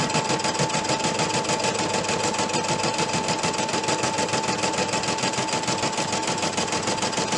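A sewing machine stitches out an applique cutting line on fabric, running as a steady, even mechanical whir with a fast, continuous stitching rhythm throughout and no talking.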